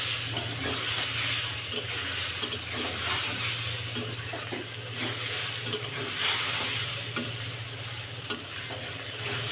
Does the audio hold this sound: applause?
no